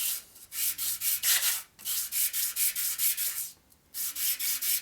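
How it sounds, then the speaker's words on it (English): Rhythmic hand sanding strokes on a metal 1947 Harley-Davidson EL knucklehead 74ci engine case part, steady back-and-forth rasps in close bursts with two brief pauses, alone without talk. "Change our sanding direction so we can see the new mark."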